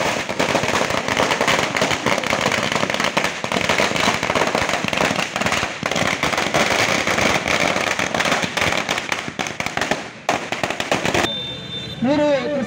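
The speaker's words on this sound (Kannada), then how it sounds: "ಹುಕ್ಕೇರಿ ಕೋಟ್ ಸರ್ಕಲ್ನಲ್ಲಿ ಪಟಾಕಿ ಹಚ್ಚುವ ಮೂಲಕ" Firecrackers set off at a town circle in Hukkeri, part of a farmers' organisations' celebration, crackling in a dense, continuous loud barrage of rapid pops, with crowd voices mixed in, before the bursts stop near the end.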